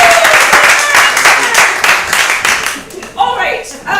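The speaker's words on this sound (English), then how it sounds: "Let's give a round of applause." An audience bursts into loud, dense applause, many hands clapping close and continuous, with a voice rising over the clapping near the end.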